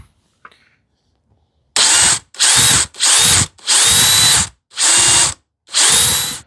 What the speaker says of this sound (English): let me make that clearance hole right now itself, because I want to tap that screw in